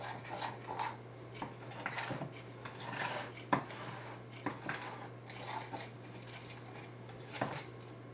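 Quiet scraping and light clinks of a utensil stirring self-rising flour mixture in a bowl, irregular and faint, over a steady low electrical hum.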